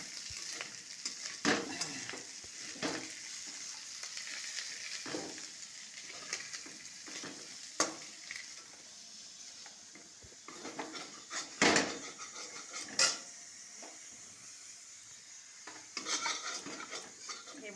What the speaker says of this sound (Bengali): চিংড়ি মাছ ভাজা আমার হয়ে গেছে। চিংড়ি মাছগুলো তুলে রাখবো।